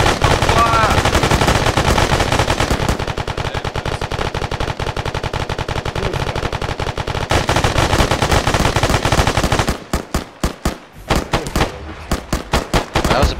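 Loud, sustained automatic gunfire in a military shooter game as a squad engages a Humvee mounted with a Dushka heavy machine gun: dense continuous bursts for about ten seconds, then separated single shots and short bursts.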